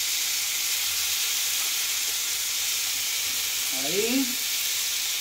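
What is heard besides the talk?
potatoes frying on a disc pan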